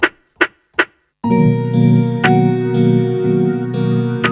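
Three short drum hits open, then a sustained, detuned synth-like tone swells in with occasional sharp accents; the pitched-down second snare sample for a lofi beat rings with a heavy, processed, chorus-like character, loud and alone without speech.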